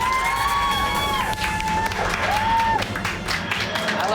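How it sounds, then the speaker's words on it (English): Studio audience applause and cheering on a children's TV show, dense clapping with whistly squeals and electronic tones mixed in over about four seconds. "A round of applause for Dan Starkey."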